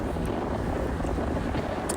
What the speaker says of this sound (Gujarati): જો અત્યારે વાયરો કેટલો આવે